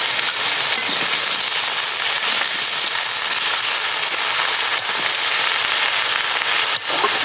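Turmeric and dry chili powder hitting hot oil give off a loud, steady, hissing crackle that carries on unbroken throughout.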